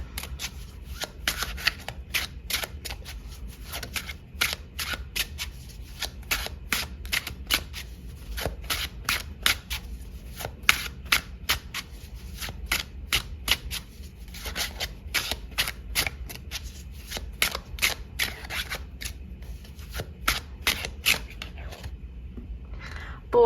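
Tarot cards are shuffled by hand in rapid riffling bursts, crisp close-up flicks repeating over and over with brief pauses, fairly loud.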